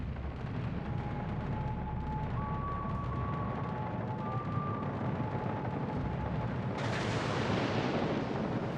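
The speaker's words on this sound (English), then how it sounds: "Good bomb drop" Bombs dropped from aircraft explode during a World of Warships Legends naval battle, a continuous heavy rumbling blast texture with steady loud booming throughout and a sharper burst near the end.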